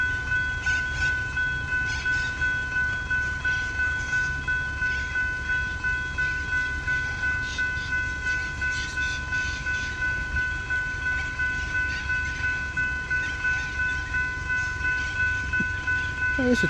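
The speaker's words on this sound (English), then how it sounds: "There's a train." A train passes the Main Hurstbridge Road level crossing in Diamond Creek, Victoria, with steady rumble and wheel clatter under the constant ringing tone of the crossing bells, close and loud throughout.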